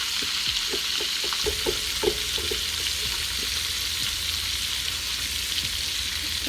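Meatloaf sticks frying in a pan: a dense, constant sizzle and crackle at close range, with light taps and utensil clicks early on, and no voices.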